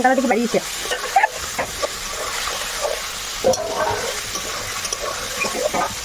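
Goat meat cooks in an oily pan, sizzling and frying steadily with scraping stir strokes and occasional clinks of a spoon against the metal, close and fairly loud without speech.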